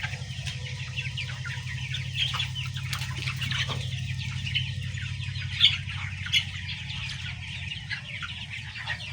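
Sonali chicks crowd a poultry house, their busy clucking and chirping scattered throughout over a steady low mechanical hum, with a few sharper calls and wing flutters standing out.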